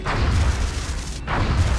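Phoenix Cannon shots fired at a small UFO in the XCOM video game: two heavy, booming blasts about a second apart, loud and close, each with a short rumbling tail.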